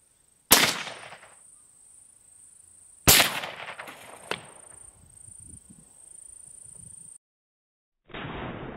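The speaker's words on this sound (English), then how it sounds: "So first up is the 22 magnum into the copper block." A .22 Magnum rifle fired into a copper block: two sharp, loud cracks about three seconds apart. Each crack is followed by a decaying ring and a high steady tone, with a smaller impact-like snap after the second shot.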